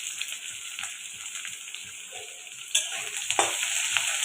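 Onion with cumin seeds fries in oil for a soybean curry, a soft, fairly faint sizzle under light scraping stirs, growing slightly brighter and busier toward the end.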